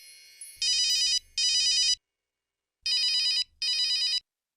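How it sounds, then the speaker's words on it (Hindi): A phone ringing with an electronic ringtone in four clean, evenly spaced bursts, loud and close with silence between rings and no talk. "इस फोन को भी अभी बजना था।"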